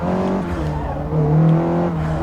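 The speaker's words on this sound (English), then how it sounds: "they've really nailed the tyre noise" Tyre squeal in Forza Motorsport, a racing video game: a race car's engine drones steadily while tyres squeal in long, tonal howls through corners, rising slightly midway.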